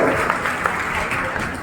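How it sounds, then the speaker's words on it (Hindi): Applause from a school audience at a student orientation programme in Kaithal, cheering a girl student: a dense, steady wash of clapping lasting the whole clip at fairly even loudness, with no distinct voices. "एक बार बहुत जोरदार तालियां बच्ची के लिए, बहुत जबरदस्त"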